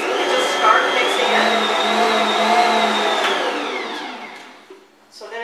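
An electric mixer kneads bread dough in a home kitchen, a loud steady motor whir with a high tonal whine that runs for about four seconds, then drops away and stops near the end.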